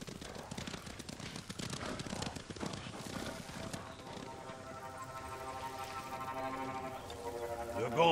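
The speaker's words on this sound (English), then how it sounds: "You hear that? Horses!" Horses approaching in Ghost of Tsushima, with hoofbeat clip-clop building under game music and ambience, swelling louder toward the end.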